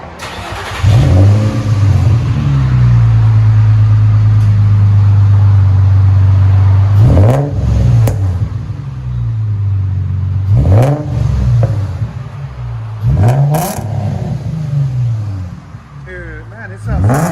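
Exhaust of a 2005 Infiniti G35 fitted with a DTM dual stainless steel muffler, revved loudly several times from a steady idle into sharp, booming pulls. A person speaks briefly between the revs.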